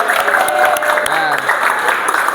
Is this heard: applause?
yes